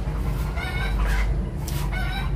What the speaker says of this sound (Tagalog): Saba ka jud mga manok nas mama